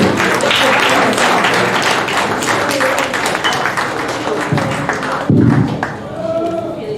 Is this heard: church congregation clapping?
yes